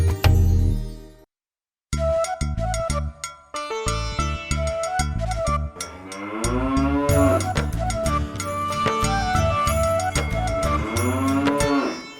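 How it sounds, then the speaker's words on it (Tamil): A cow moos loudly in a Tamil children's song, long drawn-out lowing calls set over a bouncy musical backing with jingling sounds. "பசுமாடு பசுமாடு என் பசுமாடு"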